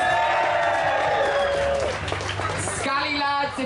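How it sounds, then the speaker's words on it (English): Crowd applause and cheering at Bristol Pride 2014 for GMB Union, a dense continuous roar of clapping and whoops from a large outdoor audience, with a voice over a loudspeaker heard through it. "Give GMB Union a massive round of applause."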